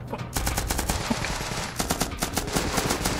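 Rapid gunfire from the video game Squad, with the anti-materiel rifle among the shots, plays as a dense run of loud cracks and reports that stays close and continuous throughout.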